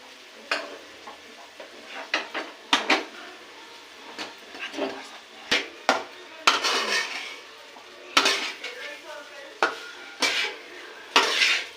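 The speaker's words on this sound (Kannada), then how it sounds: "ಅನ್ನನ ಫುಲ್ಲು ಮಿಕ್ಸ್ ಮಾಡ್ಬೇಕು ಚೆನ್ನಾಗಿ ಎಲ್ಲ" Egg fried rice being stirred and mixed in a pan: repeated scraping and clanking of a metal spoon against the pan with light sizzling, irregular strokes close by, and someone speaking at times.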